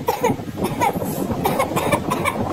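An animated character in a Telugu-dubbed Doraemon episode coughs in a run of rough, close bursts, repeated several times in quick succession.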